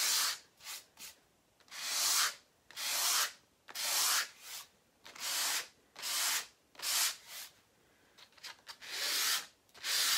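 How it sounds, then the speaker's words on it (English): Painted wooden tray boards are hand sanded with repeated rhythmic rubbing strokes, each a loud, close, gritty burst separated by short pauses. "sanding it down just a little bit to make it look a little bit more worn"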